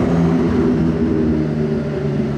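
McLaren supercar on the road giving a steady, loud low engine drone that holds evenly throughout, with no voices over it.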